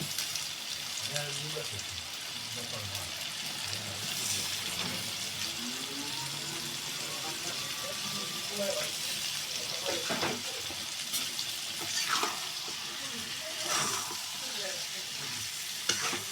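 River baila and tangra fish added to a frying curry of peas, tomato and potato, giving a close, steady sizzle and frying hiss with occasional stirring clinks and scrapes, and a voice speaking intermittently over it.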